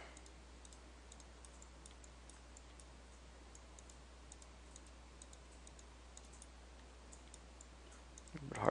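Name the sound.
computer mouse clicking while editing Starcraft 2 terrain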